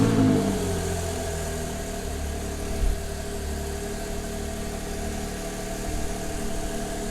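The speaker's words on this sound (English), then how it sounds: "Now let's give it a start up." A 2016 Porsche 911 Carrera S with 3.0-litre twin-turbo engine starts with a brief loud burst at the start, then settles into a steady, even idle drone that continues throughout.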